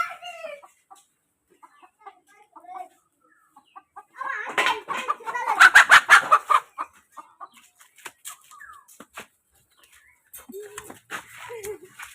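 Chickens cluck and squawk during a chicken-catching challenge, with scattered calls at first, then a loud flurry of agitated squawks and flapping in the middle and a few more clucks near the end.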